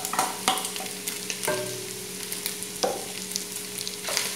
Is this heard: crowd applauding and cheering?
no